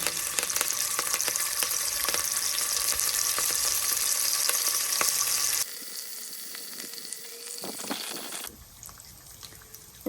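Bacon-wrapped chicken with thyme sizzles loudly in a frying pan, a dense steady crackle that drops suddenly to a quieter hiss partway through, with a few clinks before the frying surges back up.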